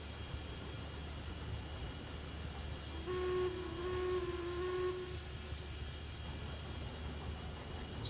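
A steady train whistle in the video game Railroads Online sounds for about two seconds over a constant low rumble, then fades back into the engine noise.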